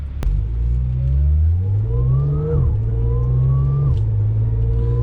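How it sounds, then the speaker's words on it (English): Supercharged car engine whining as it pulls through first, second and third gears at light throttle, a rising whine climbing in pitch, dropping at each shift, over a steady low engine rumble inside the car. "As you're driving through gears, you can hear the supercharger now"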